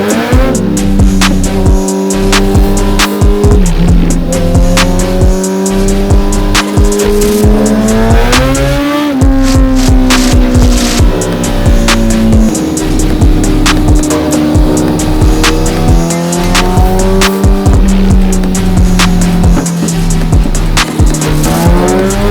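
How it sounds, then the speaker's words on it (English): A 2018 Kawasaki ZX-14R sport bike screams on a dyno, its engine climbing and falling through repeated high-rev pulls, loud, close and continuous with no talking. "ZX-14r on the dyno"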